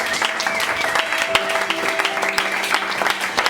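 A church congregation applauding during worship, steady dense clapping filling the room with a few sustained voices or tones over it.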